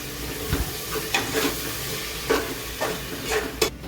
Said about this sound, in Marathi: आता ही ग्रेव्ही आपण छान तेल सुद्धापर्यंत परतवून घेऊया